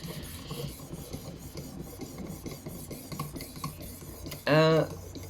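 A knife blade rasps back and forth on a coarse fixed-angle sharpening stone in steady gritty strokes, fairly quiet and close, ending with a brief louder metallic ring.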